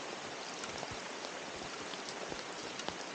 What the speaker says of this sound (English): It was absolutely bucketing it down.